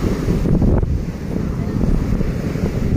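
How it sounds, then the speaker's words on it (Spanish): Surf rolls onto the beach at Playa del Morro, a low, continuous rumble of waves heavily buffeted by wind noise on the microphone, loud and steady throughout. "De pronto vienen olas grandecitas, olas grandecitas que hacen que se revuelque la gente."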